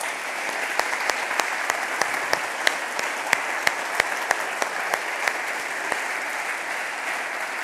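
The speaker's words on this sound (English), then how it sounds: "so please give them a round of applause." A conference audience at a closing ceremony applauds in a sustained, even crowd clap, with a few sharp individual claps standing out near the front.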